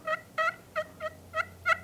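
Domesticated turkeys in a pen, giving six short, evenly spaced calls, each one a bright, tonal, slightly quavering note. The calls are close and moderately loud over a faint low hum.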